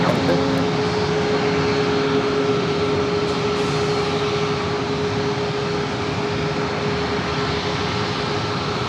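Jet airliner at San Diego airport, a loud, continuous engine roar with a steady whining tone, heard throughout at a moderate distance.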